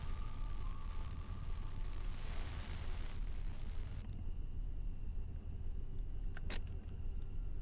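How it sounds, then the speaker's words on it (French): A car in the horror game Fears to Fathom cranks and sputters without catching, a rough grinding engine noise that cuts off midway, followed by quieter clicks and a short metallic rattle. "La voiture ne voulait démarrer à nouveau."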